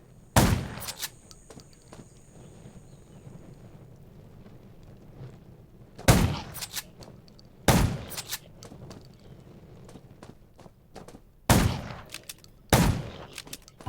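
Several sharp, loud gunshots from a zombie survival video game ring out in separated bursts, some single and some doubled, with quiet ambient rumble between them.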